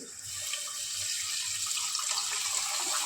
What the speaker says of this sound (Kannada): ಈಗ ವಾಟರ್ ಹಾಕ್ತೀನಿ.